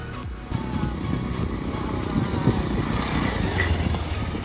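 A scooter engine runs steadily with a rough, continuous drone and rumble while riding an off-road mountain trail in the Dolakha–Jiri area, loud and close, with no speech.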